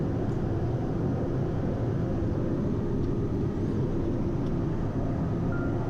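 A Pilatus PC-12 turboprop taxis onto a ramp to park, its engine a steady, dense rumble and roar heard from inside the aircraft, continuous and unchanging throughout.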